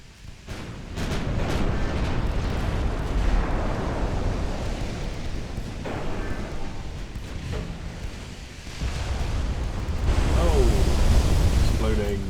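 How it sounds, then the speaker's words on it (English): A ship explodes during a naval battle in the video game Ultimate Admiral Dreadnoughts, a dense, sustained rumbling roar with crackling bursts that swells loud near the end, with a voice talking over it. "Oh! Exploding."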